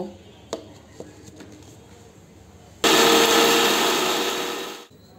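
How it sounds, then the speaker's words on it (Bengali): Electric blender whirring loudly as it blends rose petals for a herbal face pack, starting abruptly after a few faint knocks and running steady for about two seconds before cutting off. "এই যে এখন আমি ব্লেন্ড করব"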